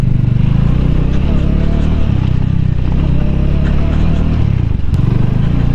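Motorcycle on a road trip from Peshok to Kolkata, its engine droning loud and steady close by with road rumble and traffic noise, while passing another vehicle.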